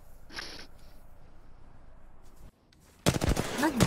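Rapid gunfire in a video game, heard as a burst of sharp, loud shots near the end following quieter ambient game sound, with a person talking briefly over it.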